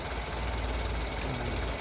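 A Toyota Corolla engine idles steadily while its ignition timing is adjusted, a low, continuous mechanical hum and rumble heard up close with no voices.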